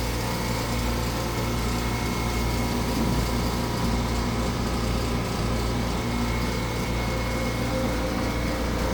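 An Aeon Mira 9 laser cutter keeps running to exhaust smoke after a job, its fan and motor giving a steady, unbroken whir at a constant level with no talk.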